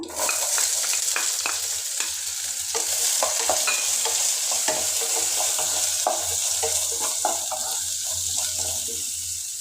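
Sliced onions and dried red chillies frying in a pan: a constant bright sizzle and hiss broken by crackles and small utensil clicks, near and fairly loud, with no talking.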